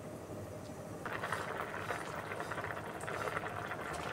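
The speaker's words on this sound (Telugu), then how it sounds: "ఉడకబెట్టుకుందామండి." Egg vermicelli with salt simmers in a pan, giving a steady close bubbling and sizzling boil that grows a little busier after the first second and continues alone, with no talk.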